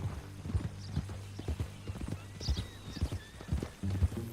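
Steady clip-clop of horse hooves at a walking pace, close by, with a brief whinny partway through.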